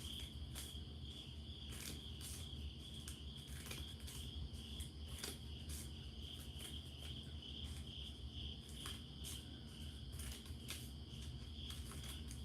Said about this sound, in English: I've just been enjoying the quiet and the crickets